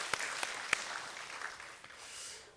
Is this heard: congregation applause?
yes